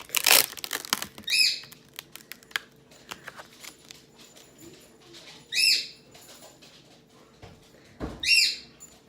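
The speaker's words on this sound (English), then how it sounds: "Sorry if you hear the bird in the background," A nearby pet bird indoors gives short, repeated chirping bursts every few seconds, with quiet rustling and handling noises from card crafting in between.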